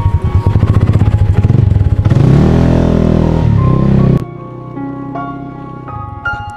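A motorcycle with a loud, noisy exhaust throbs in a steady, rapid pulse close by, then swells into a harder rev before cutting off abruptly, leaving quieter tonal background sound.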